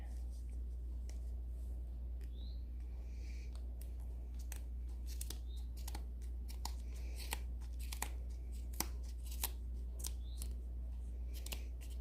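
Scissors snip through yarn repeatedly in short, sharp cuts, close up and fairly quiet, over a low steady hum.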